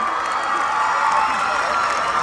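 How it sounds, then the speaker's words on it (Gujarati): Loud applause and cheering rise from a school annual day audience, a dense, continuous crowd roar with scattered shouts. "જોરદાર તાળીઓ થઈ જાય"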